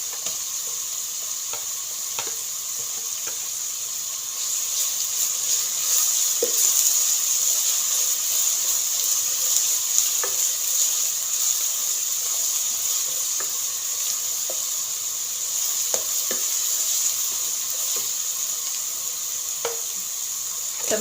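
Ginger garlic paste sizzles in hot oil with eggplant in a pan for Pakistani-style achari baingan, a steady close frying hiss with occasional stirring clicks and scrapes throughout, no voices.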